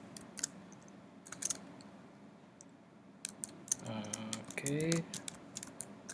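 Computer keyboard keys tapped while writing Python code: light, quick clicks in short irregular bursts, quiet against a low room hum, with a voice speaking briefly.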